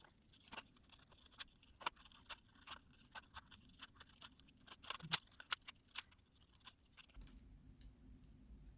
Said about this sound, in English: Now go ahead and cut this out.